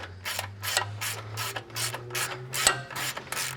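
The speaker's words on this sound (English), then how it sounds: "take your 13mm socket, take that, and I just like to loosen it and not take it out all the way" A ratchet turning a 13mm socket to loosen a frame bolt during a lift install on a 2020 Ram 1500, giving about eight loud, close metallic clicking bursts in a steady rhythm over a low mechanical hum.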